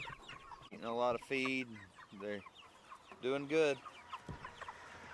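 Cornish Cross broiler chickens at six weeks old, kept in tractors, cluck in a series of close, loud calls with short pauses between them, while a person speaks briefly.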